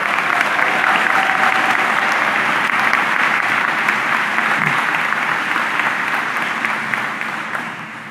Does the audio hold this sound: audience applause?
yes